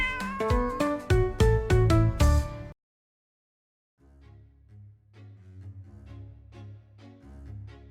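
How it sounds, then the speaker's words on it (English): A neighbor's cat meows in several loud, close, tonal cries packed into the first few seconds. After a short silence, softer musical tones follow. "your neighbor's cat"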